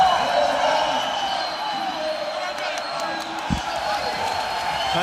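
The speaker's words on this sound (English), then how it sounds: "And this crowd roaring, hoping that they could see more history." A crowd roars during the men's 400 medley relay at the 2025 NCAA swimming championships, a broad, sustained wash of cheering at moderate level beneath a commentator speaking over it.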